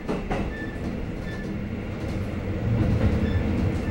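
A train climbs a slope in Hokkaido, Japan, between Minami-Wakkanai and Asahikawa, rumbling steadily with a low, heavy drone, the engine noise swelling slightly toward the end; no voices.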